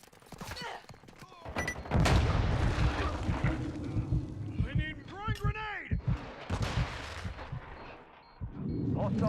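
Cruise missile explosions in the video game Modern Warfare 2, with loud booming blasts and crackling rumble sweeping through a busy gunfire-filled soundscape, while a voice talks over the action.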